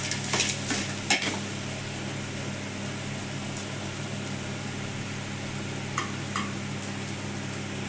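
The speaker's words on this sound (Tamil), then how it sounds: "கொஞ்சம் ஸ்லோவாக எண்ணெயில் ஒரு அஞ்சு நிமிஷம் நல்லா எண்ணெயில் கிண்டி விட்டுருவோம்" Ingredients being stirred in oil in a pan over a low flame for coconut rice, a soft continuous fry hiss with occasional scrapes and clinks of a spoon against the pan, alone and close.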